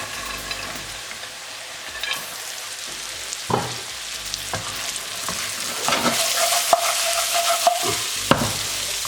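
Okra is stir-fried in a non-stick pan, giving a constant sizzle with repeated scrapes and knocks of a spatula that grow busier and louder toward the end, with no talking.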